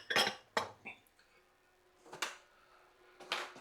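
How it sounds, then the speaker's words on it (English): Bowls and dishes clattering in a home kitchen, a few sharp clinks of ceramic and metal near the microphone, spaced out in short separate bursts with quiet gaps between. "Let's grab an extra bowl."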